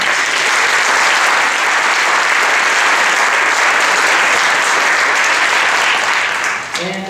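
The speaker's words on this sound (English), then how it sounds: "If you give them a round of applause" Sustained audience applause at a high school wind symphony concert, loud and steady for about seven seconds before tapering off at the end, with no speech over it.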